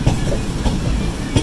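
A passenger train running on the railway toward Kacheguda, with a steady loud rumble and rhythmic wheel clacks heard from inside, close and continuous.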